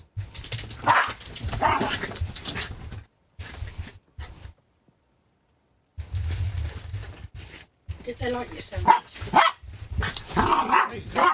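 A dog barks and yaps repeatedly in short bursts in a room, mixed in with conversation and game sounds, loud and close, with a pause of near-silence midway.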